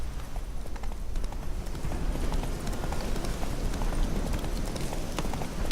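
Roach, Geralt's horse in The Witcher 3: Hearts of Stone, gallops steadily, its hooves clip-clopping in a fast, even rhythm that stays close and loud for the whole stretch, with no one talking over it.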